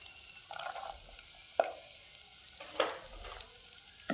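Peeled garlic cloves with cumin fry in hot oil, giving a faint, steady sizzle with a few brief stirring knocks and clatters near the pan.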